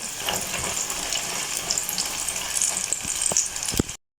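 Sliced brinjal frying as vattu kathirikkai curry in a home kitchen pan gives a steady, close hiss and crackle, with a few scraping stirs near the end. No one speaks.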